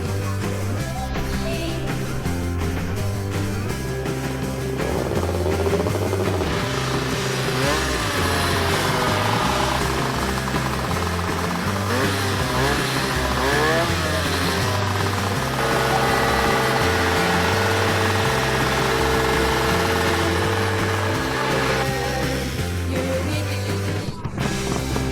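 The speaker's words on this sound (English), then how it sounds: "The bike is running" A Polish WFM racing motorcycle engine runs steadily and loudly for the whole stretch, its rough, pulsing exhaust note rising and falling slightly as it idles and revs.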